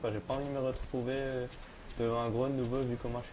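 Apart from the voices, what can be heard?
No everyday noise stands out behind the speech.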